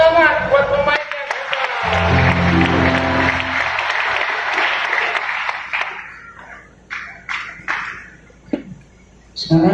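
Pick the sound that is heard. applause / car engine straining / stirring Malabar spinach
applause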